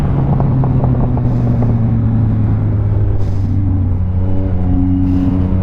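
A car driving around on a slick, wet road, heard from inside as a steady loud engine rumble and tyre hiss, with the engine note shifting as it changes speed, no voices.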